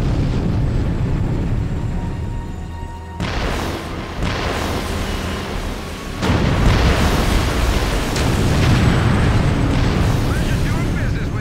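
Bomb blasts in the video game Haze roll in as a sustained, heavy rumble with several sharp onsets. The booms come one after another as a loud, continuous barrage, and no voices are heard.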